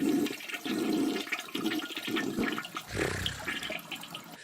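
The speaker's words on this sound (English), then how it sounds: "I went through like probably like 7 or 8 toilet flushing sounds" Toilet flush sound effect: a rushing gurgle of water swirling down the bowl, rising in bursts and then draining into a lower refilling trickle, close and alone.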